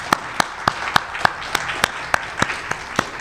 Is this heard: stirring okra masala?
no